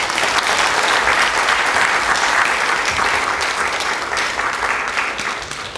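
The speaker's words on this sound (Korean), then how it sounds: "오늘 진솔한 강연을 해주신 우리 이낙연 후보님께 다시 한번 큰 박수 부탁드립니다" An audience at a lecture forum gives a candidate a warm round of applause, continuous dense clapping from many people that holds steady and slowly fades slightly toward the end.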